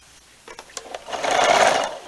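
A sewing machine stitches binding onto a quilt in one continuous run that builds and holds steady, preceded by a few short starting bursts, close and fairly loud with no talking.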